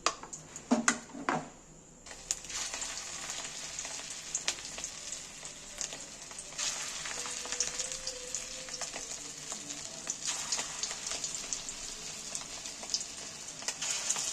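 Fish roe fritters fry in hot oil with a continuous close sizzle and crackle, brief clatter at the start, then steady bubbling with occasional spitting bursts.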